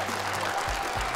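Audience applause for a dance team's performance on a talent-show stage, a dense wash of clapping with low rumbling thumps underneath, continuous throughout the short moment.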